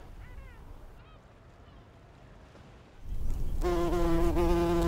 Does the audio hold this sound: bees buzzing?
yes